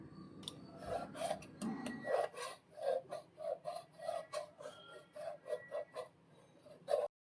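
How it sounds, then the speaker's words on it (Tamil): Kitchen knife being sharpened before cooking, a run of rhythmic rasping strokes, each a short scrape at a steady pace, close and fairly faint in a quiet room. "எப்போயுமே சமைக்கிறதுக்கு முன்னாடி நைஃபை நல்லா ஷார்ப் பண்ணிப்பேன்"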